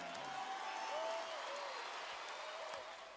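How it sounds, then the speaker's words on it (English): An arena crowd at a boxing event claps and cheers after a fight, forming a steady wash of applause with indistinct voices and whoops mixed in, fading slightly toward the end. "Let's give him a hand."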